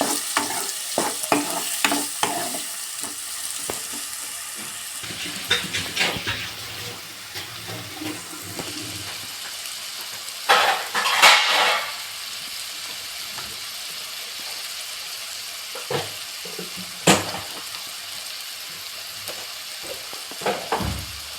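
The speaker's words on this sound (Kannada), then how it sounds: "ಈರುಳ್ಳಿ ಫ್ರೈ ಆಗಬೇಕು." Onions fry in a pan for a gourd gravy, with a steady sizzle broken by repeated stirring scrapes and spoon knocks that come and go over about twenty seconds.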